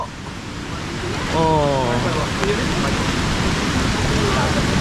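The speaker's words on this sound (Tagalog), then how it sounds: "Ayan na ang ulan. Pabugso-bugso." A gusty rain shower at Casapsapan beach in Casiguran makes a steady, dense hiss that swells slightly partway through, and a voice briefly exclaims over it.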